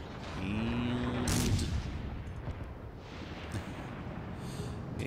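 Heavy naval guns fire a broadside during a warship battle in World of Warships: Legends, with one big boom around the middle of the clip followed by a long, rumbling, noisy tail of battle sound.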